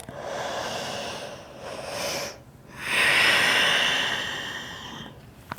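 One full cycle of deep yoga breathing, heard up close: a long, airy inhale, a brief pause, then a longer, fuller exhale.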